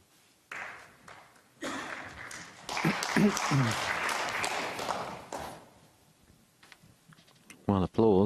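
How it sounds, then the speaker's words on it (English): Warm applause from the crowd at a snooker semifinal of the 2017 Northern Ireland Open swells and fades over several seconds, with a commentator talking around it. "applause"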